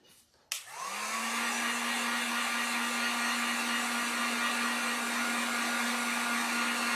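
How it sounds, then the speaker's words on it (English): A heat gun blows hot air over acrylic paint on a wood sign, a loud steady whooshing roar with a motor whine that switches on abruptly and holds continuously to the end, with no talking. "throwing our heat gun on that one"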